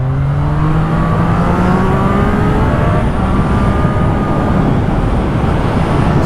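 Several cars hum and accelerate steadily on the road close by, heard from a moving motorbike, with a rising engine whine and constant wind and road noise throughout, no talking.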